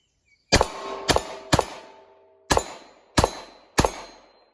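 A Diamondback SDR revolver fired with .38 Special rounds at a range, six sharp reports with ringing decay, three quick shots, a pause, then three more.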